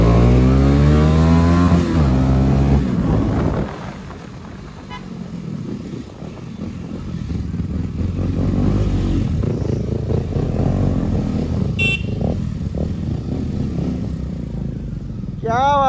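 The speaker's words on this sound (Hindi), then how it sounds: "मैं आपको पुराना वाला एग्जॉस्ट और ये अभी वाला एग्जॉस्ट दोनों की साउंड सुनाऊंगा ना" KTM Duke motorcycle with an aftermarket exhaust, revving loudly up and down close by, the engine climbing and falling in pitch with a brief horn-like toot near the end.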